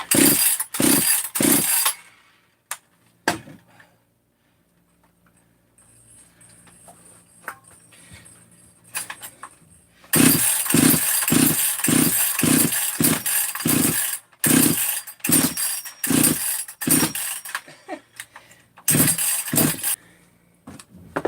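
A chainsaw engine fitted with a 262 muffler bursts into short, rapid revs, goes quiet for several seconds, then roars through a long series of choppy revs.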